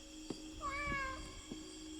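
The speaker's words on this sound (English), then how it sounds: "It's an orange cat as well, which usually are very funny to watch." An orange cat in the video game Indigo Park gives a clear meow, rising then falling, with a few soft clicks around it, fairly close and alone with no talk.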